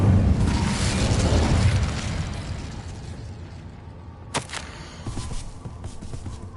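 Incendio fire spell cast in Hogwarts Legacy: a loud whooshing burst that fades over a couple of seconds, followed by a sharp crack and scattered softer crackles in a quiet game scene, with no talking.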